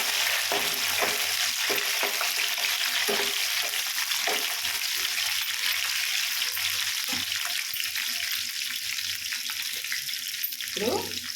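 Onion and green chili sizzle steadily in hot oil in a pan for a Telugu ridge gourd curry, with repeated scraping stir strokes from a spoon throughout, close and loud with no talking.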